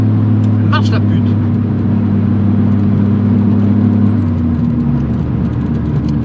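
A Volkswagen Golf 2 with a 1800 engine, fitted with a Weber 32/34 carburetor and a Golf 2 GTI gearbox, idles steadily and close, a constant low drone that settles lower near the end while someone speaks briefly.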